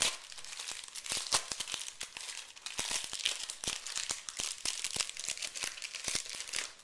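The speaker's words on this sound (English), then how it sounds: "Let's rip this open." A foil pack of 1990 Pro Set football cards is torn open, with close, sharp crinkling and ripping in irregular bursts for several seconds.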